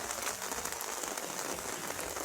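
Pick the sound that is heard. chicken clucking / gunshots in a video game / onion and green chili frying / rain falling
rain falling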